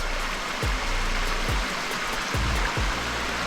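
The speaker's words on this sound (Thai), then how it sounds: "เป็นลำธาร" Steady rushing of a stream near a waterfall at Phu Kradueng, Thailand, fills the clip, loud and close, with a few low thumps scattered through it.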